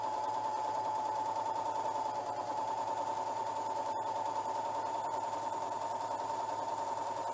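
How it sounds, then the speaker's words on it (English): A serger runs steadily, sewing a rolled hem along a length of ribbon: a continuous, even mechanical whir held close and level throughout, with no talking. "So I'm just going to do a rolled hem all the way down."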